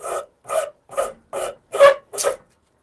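Six rhythmic rasping strokes of a tool scraping bark off a wooden shillelagh stick in a workshop, each stroke short and evenly spaced, close and distinct with no talking.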